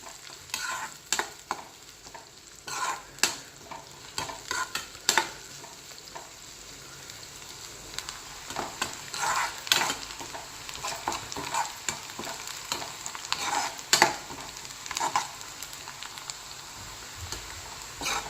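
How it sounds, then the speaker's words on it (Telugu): Thinly sliced onions frying in hot oil and stirred toward golden brown: a busy crackling sizzle with frequent spatula scrapes and clinks against the pan, close and continuous, no voices. "బాగా సన్నగా కట్ చేసి పెట్టుకున్న ఉల్లిపాయలు ఈ ఉల్లిపాయలు బాగా గోల్డెన్ బ్రౌన్ కలర్ వచ్చేంత వరకు ఎంచుకుందాము"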